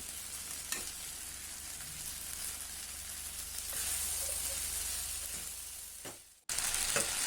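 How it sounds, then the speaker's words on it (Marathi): Steady sizzling of onion and garlic greens frying in hot oil for a mixed vegetable dish, with occasional stirring clatter, cut briefly near the end before the sizzle returns. "ते देखील आपण तेलामध्ये छानपैकी भाजून घेऊया"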